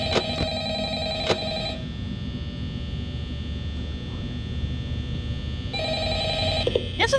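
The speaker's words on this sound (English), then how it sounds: "Answer the damn phone!" A phone rings in the Five Nights at Freddy's horror video game, a steady electronic trill that sounds in bursts at the start and again near the end, with sharp clicks between the rings.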